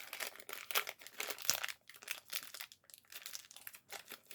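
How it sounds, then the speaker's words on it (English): Tape peels off a plastic bag holding armor for a Masters of the Universe Beast Man action figure, a close, faint crinkle and rustle of plastic in short, irregular bursts. "Okay, we got some tape on the bag."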